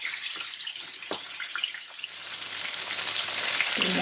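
Chicken wings sizzle steadily in hot oil for a tandoori wing recipe, a dense continuous frying hiss that swells slightly louder toward the end, with a few soft bubbling pops and no talking.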